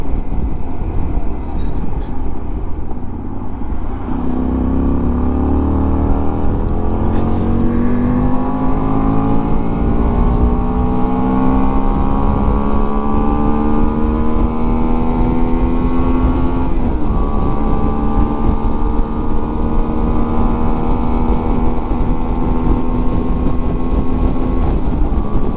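A Honda Varadero 125 motorcycle is ridden through the hills above Obernai in Alsace, its engine droning loud and steady with rising and falling pitch as it accelerates and shifts, under constant wind rush.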